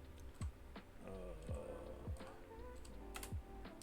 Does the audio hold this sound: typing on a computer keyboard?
yes